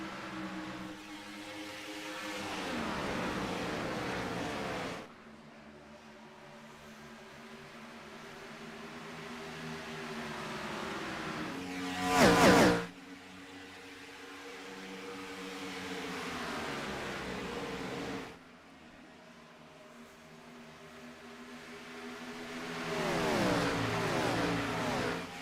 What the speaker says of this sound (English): Sound of screaming race cars ripping around Chicagoland Speedway.